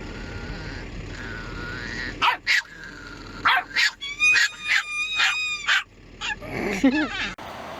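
A dog barks in loud bursts, then whimpers and howls in high drawn-out tones, close and alone with no talk.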